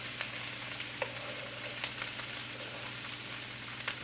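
Cabbage, green pepper and celery sizzle in a pan for keto Asian pork burgers, with a soft, even frying hiss and a few faint scattered clicks and taps, fairly quiet, no talking.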